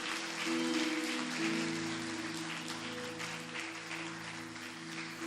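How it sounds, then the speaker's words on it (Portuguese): A church congregation claps together, a broad, fairly soft wash of applause with a steady sustained tone held underneath, continuing evenly throughout. "Se eu fosse você, eu dava até um aplauso para Jesus."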